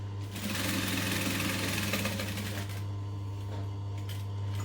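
A sewing machine runs steadily, top stitching along a fabric edge, with a continuous close whirring hum and a fast mechanical needle rattle that eases slightly partway through.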